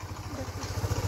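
A motorbike engine idles at close range with a steady low pulsing throb, arriving in a village while the rider parks, with faint background noise over the top.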